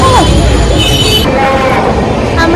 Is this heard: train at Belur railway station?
yes